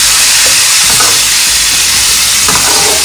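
Tinda, or apple gourd, fry loudly in a pan with a constant close, hissing sizzle, broken by a few soft stirring knocks.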